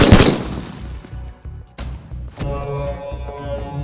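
A gun in a VR sport-mode shooting game fires in short bursts. A loud, sharp volley opens, then a single crack follows, then another burst with ringing mechanical clatter, and no one speaks over it.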